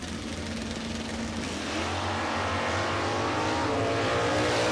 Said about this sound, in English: Out of Placerville, the Fix Auto and DP Converters, 72 240Z Datsun with a small block 355.